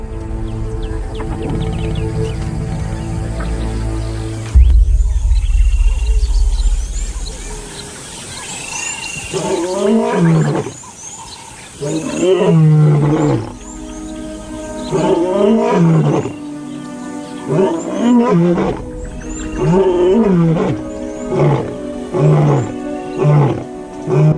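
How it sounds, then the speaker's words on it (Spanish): Lions roar along the riverbank of South Luangwa National Park in Zambia, a series of deep, loud grunting roars that rise and fall in repeated bouts, with low rumbling and faint bird calls behind. "Rugidos de confianza y poderío recorren 8 kilómetros de ribera en el Parque Nacional de Luangwa Sur, en Zambia."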